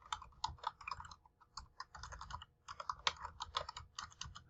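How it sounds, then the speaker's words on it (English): Fingers type a response on a computer keyboard, with fast, uneven runs of close key clicks and short pauses between them, quiet and alone. "I'm going to begin to type in my response"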